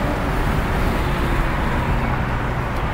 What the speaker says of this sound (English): Oh, now I hear the tires.